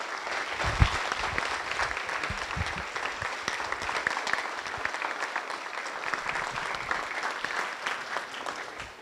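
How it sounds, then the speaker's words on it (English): An audience at a junior student presentation breaks into sustained applause, many hands clapping densely and evenly throughout, with a few sharper claps standing out near the start. "So let's please give them a round of applause."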